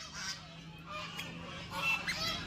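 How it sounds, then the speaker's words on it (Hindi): Swans or geese honk intermittently at a distance, several calls scattered over soft background noise. "ये सब हंस है बतख थोड़ी देखो"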